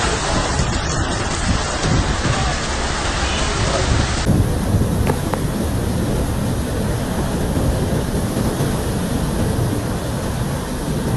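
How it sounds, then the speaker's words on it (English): Heavy rain pours during a severe thunderstorm in Karachi, Pakistan, a dense, steady roar that stays loud and unbroken throughout, with no clear separate thunderclaps standing out. "rain poured down with unstoppable force"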